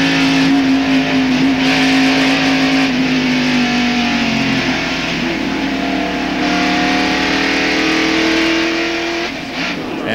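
Race car engine roaring steadily from inside Dale Jarrett's car at the 1991 Miller Genuine Draft 500, a loud, sustained drone with a pitch that sags and then climbs again, joined by dense road and wind rumble throughout, with no voices.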